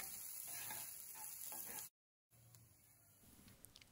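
Finely chopped green chilies and ginger sautéing in hot oil in a kadai, a steady close sizzle with light crackles and stirring, interrupted by a brief moment of silence before the frying resumes.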